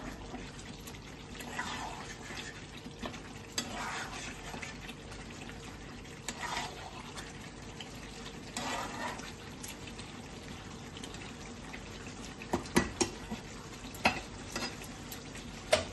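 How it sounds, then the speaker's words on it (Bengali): Chicken kosha with garam masala stirred in a pan over a raised gas flame, giving soft scraping strokes and a low steady sizzle, with a few sharper clinks of the spoon near the end. "গ্যাসটা বাড়িয়ে একটুখানি নাড়িয়ে নিয়ে বন্ধ করে দেবো"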